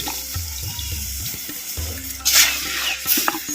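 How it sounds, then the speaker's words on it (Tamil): Fried masala is stirred with tamarind water in a pan for a veg ayirai fish curry. Wet scraping and sloshing come in uneven strokes, with a soft sizzle underneath and a louder splash near the end. "மசாலாவையும் புளித்தனையும் அப்படியே நல்லா அப்படி கிண்டு கிண்டு கிண்டு கிண்டுன்னு கிண்டுறோம்"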